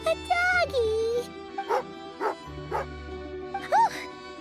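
A dog in Genshin Impact gives a few yips and short barks, close and moderately loud, mixed with high whining tones and a steady low game-music hum.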